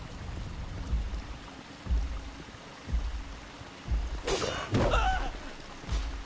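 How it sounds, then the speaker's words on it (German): Flowing water from the game Chronos: Before the Ashes, a steady stream-like wash running under periodic low thumps and a few sharper combat hits. "So, hier ist das Wasser schon angestellt."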